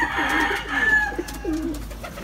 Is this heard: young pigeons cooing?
yes